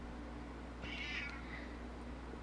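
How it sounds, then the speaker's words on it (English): A cat complaining in the background with a single drawn-out meow of about half a second, faint and distant over a steady low electrical hum. "Please ignore the cat complaining in the background."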